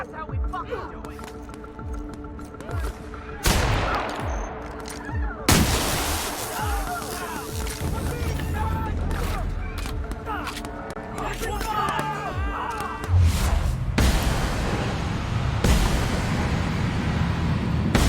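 Gunfire in The Outer Worlds on Supernova difficulty: repeated loud gun blasts and heavy booming shots, irregular and overlapping, with a dense battle din and background voices throughout.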